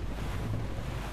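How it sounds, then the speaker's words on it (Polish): Steady wind and rushing sea around a sailing ship in Assassin's Creed Rogue, a continuous broad roar with no pauses and no talk. "Powiew wiatru nam bardzo utrudnia zakręty."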